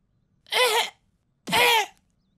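Two short, voiced coughs, each about half a second long, evenly spaced and fairly loud, with quiet before, between and after.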